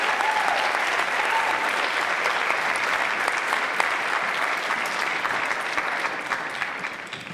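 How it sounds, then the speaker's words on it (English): A large audience at a school queen contest gives a sustained, loud, even round of applause, dense and steady throughout before easing slightly at the end. "One more round of applause for our queen contestants"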